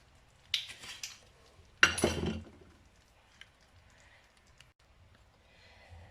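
A spoon clinks against a cooking pot while stirring spices and oil for a meatball and aubergine tagine, with a few sharp metallic knocks that give way to quieter scraping and faint rustles.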